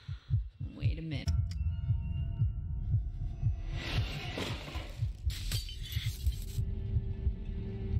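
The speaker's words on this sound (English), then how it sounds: "The fucking heartbeats in this game." Heartbeat sound effect in the horror video game Infliction, a loud repeating low double thump in a steady pulse, with scattered clicks and a brief harsh noise burst partway through.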